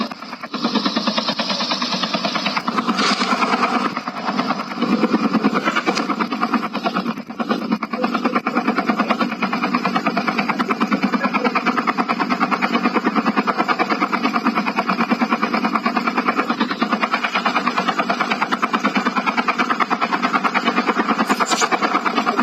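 Helicopter engine in the video game Call of Duty, a loud, steady whirring drone that holds continuously for over twenty seconds, with a few brief game effects on top.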